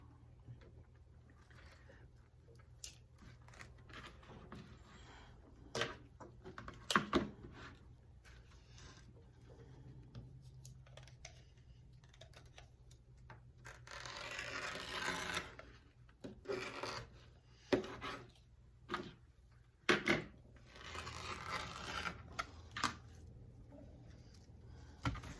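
Deco mesh for a Halloween witch wreath is cut with a handheld cutter, giving soft rasping, rubbing strokes in scattered bursts over about 25 seconds, with louder, denser cutting in the middle stretch and no voices.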